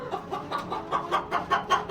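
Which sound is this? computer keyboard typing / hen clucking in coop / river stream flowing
hen clucking in coop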